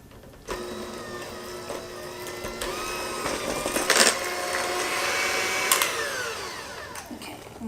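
An electric mixer whirs steadily through cupcake batter made with eggs, vegetable oil and milk, its motor hum shifting slightly in pitch, with a couple of brief scraping bursts against the bowl.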